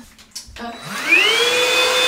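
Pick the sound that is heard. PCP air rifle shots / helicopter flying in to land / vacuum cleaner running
vacuum cleaner running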